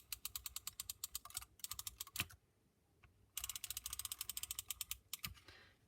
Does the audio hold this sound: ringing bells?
no